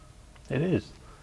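A bird calling outdoors gives one short, bright, warbling phrase with a rising-then-falling contour, clear and fairly close over quiet background, briefly standing out before fading.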